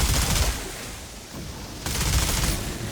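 In the Outriders shooter, a Technomancer's deployed turret fires rapid bursts of gunfire. Two dense, loud volleys are broken by a short lull, with no talking.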